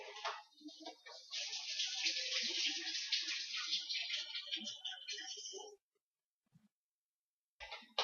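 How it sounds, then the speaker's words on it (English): An onion is rinsed under running tap water, a steady splashing hiss for several seconds that cuts off abruptly, followed by silence and a faint knock as a voice begins at the end. "So if that ever happens, give this a quick wash."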